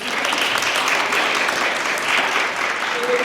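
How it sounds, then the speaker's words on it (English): Sustained audience applause after an alumni panel at a university event, dense and steady clapping filling the room for several seconds with no one speaking over it. "Round of applause to those alumni."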